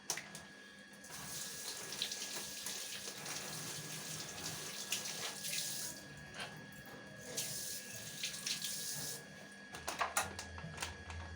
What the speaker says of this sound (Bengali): ভালো করে মাশরুমগুলো ধুতে হবে, খুব নোংরা।